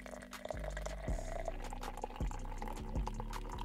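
Water poured into an AeroPress coffee maker, a close continuous trickling splash with a few gurgling pulses, heard alone in a quiet space.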